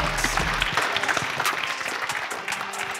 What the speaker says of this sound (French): Shabnam, avec vos applaudissements.